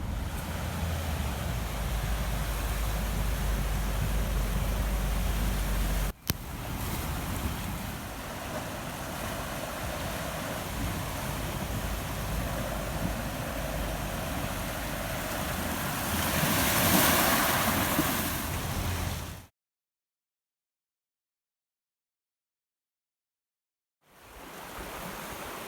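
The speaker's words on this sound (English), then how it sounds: "Bit of water splashing around there." Constant rushing, splashing water noise from a four-wheel-drive vehicle fording a fast river, loud and broadband with wind buffeting, briefly cutting to silence before resuming.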